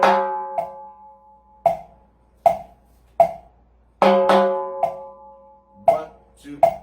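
Drumstick strikes on a drum rim in a repique pattern over a danzón clave, sharp ringing clicks spaced in an uneven two-sided rhythm, close and loud with no talking.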